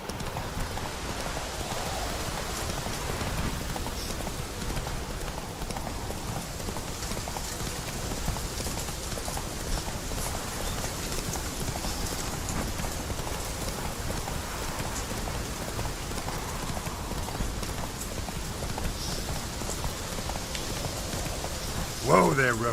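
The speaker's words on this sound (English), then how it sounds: "Whoa there, Roach" A horse gallops through steady rain in The Witcher 3, its hooves drumming in a continuous rhythm under the constant hiss of rainfall.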